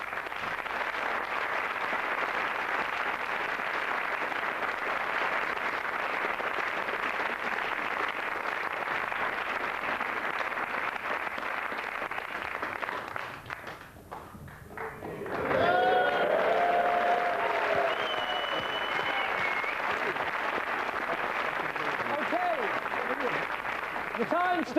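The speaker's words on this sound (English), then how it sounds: "It's a huge round of applause" A TV panel show studio audience breaks into loud, sustained applause, the clapping surging after a brief dip and continuing steadily.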